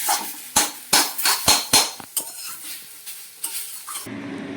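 Cooked sujni greens are tipped and scraped out of a pan with a metal spatula: a run of sharp clanks and scrapes with a soft sizzle beneath, fading into a quiet low hum at the end, no voices.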